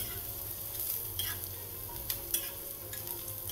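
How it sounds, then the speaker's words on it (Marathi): Onions sizzle softly in a pan while being stirred, a quiet steady hiss with a few sharp scrapes and clicks from the spoon, close but low in level and without speech. "कांदा असा मिक्स करून घ्यायचा, असं सतत मिक्स करायचा, करपू द्यायचा नाही."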